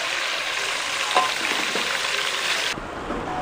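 Cucumber, tomato and other vegetables for sambar sizzle steadily in hot oil, a continuous broadband frying hiss with faint stirring scrapes, fairly close and alone with no voices.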